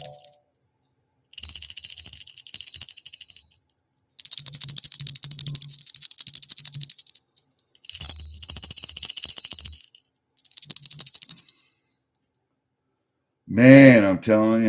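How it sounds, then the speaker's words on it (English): A small bell, received as a gift, rings in several bright, sustained bursts separated by short pauses, fairly close and clear, followed by a brief silence and then a voice speaking. "I never expected that little bell."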